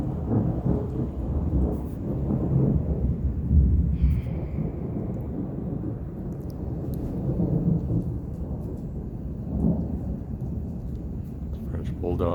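A thunderstorm with heavy rain brings low rumbling thunder that swells and fades beneath a steady wash of rain, while someone talks over it throughout.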